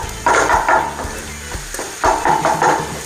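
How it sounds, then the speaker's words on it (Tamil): Paneer bhurji gets stirred in a frying pan, a utensil scraping and tapping the pan in a few loud close strokes over a steady sizzle of frying. "அப்படியே கிண்டி கொடுக்க போகிறோம்"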